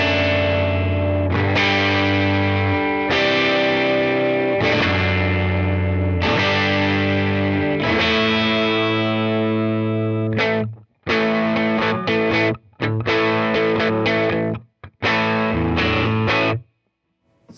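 Electric guitar chords played through a Goodsell Valpreaux 21 amplifier, loud and thick with a gritty, blended tone; several long strummed chords ring out, then quicker choppy strums with brief stops, no talking.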